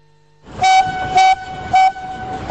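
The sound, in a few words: children's railway train arriving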